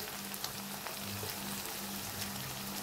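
Curry leaves and turmeric sizzle in hot oil with a continuous, fairly quiet crackling hiss that holds steady for the whole stretch, free of talk.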